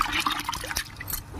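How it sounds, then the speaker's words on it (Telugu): Soaked grain is swished by hand in water in a bucket, making quick close splashes, sloshes and trickles in an uneven rhythm. "శుభ్రంగా బకెట్లో పెట్టుకొని కడుక్కోవాలండి"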